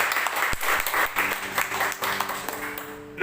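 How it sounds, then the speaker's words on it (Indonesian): A church congregation at an online Sunday service bursts into applause, a dense, loud clapping that holds for about three seconds, with a brief spoken voice at the very end. "Yang percaya beri tepuk tangan dong buat Tuhan Yesus."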